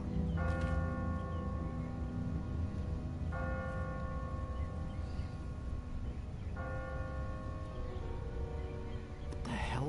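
A church bell tolls from a bell tower in The Walking Dead video game, three slow, evenly spaced rings with lingering overtones over a low rumbling background.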